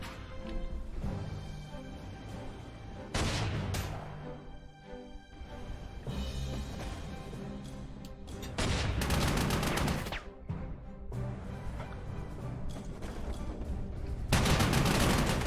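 Anti-aircraft guns firing in the World War II strategy game Panzer Corps 2 during a battle for Madrid. Repeated heavy volleys come in loud, sustained bursts, separated by brief quieter stretches, with a final booming salvo at the end.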